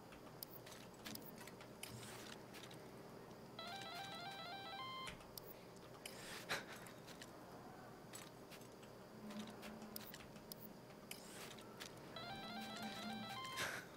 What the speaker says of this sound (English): Could someone answer the phone, please,